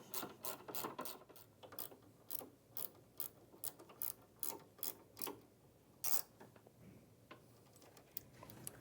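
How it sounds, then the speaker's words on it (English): A ratchet wrench tightens shoulder bolts on the transfer roller linkages of an ATLAS machine, giving a long run of close, crisp clicking strokes in bursts, with short pauses between sets and no talking. "you can now tighten all 4 shoulder bolts, starting with the linkages"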